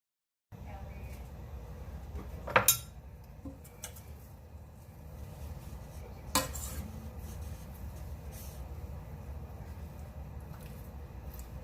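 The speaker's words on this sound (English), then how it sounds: "bring this to a boil over high heat. And we're gonna stir it occasionally" A bruschetta mixture is stirred in a pot over high heat while it is brought to a boil. A couple of sharp utensil clinks against the pot stand out over a low, continuous background rumble.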